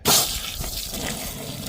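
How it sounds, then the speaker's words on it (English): Water rushing from a hose running off an outdoor spigot into a small laundry washer inside a van, a continuous close splashing gush that stays steady throughout. "let's continue filling this thing with water"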